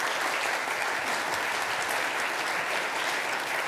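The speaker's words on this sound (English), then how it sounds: "Please give them a round of applause." A conference audience gives a round of applause as speakers come on for a Jupyter community talk, a steady, moderately quiet patter of many hands clapping throughout.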